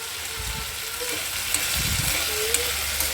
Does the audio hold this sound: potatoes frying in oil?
yes